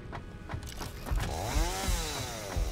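Chainsaw cutting wood in the Satisfactory video game: a revving motor rises and settles into a loud, sustained whine as the blade bites, with no speech.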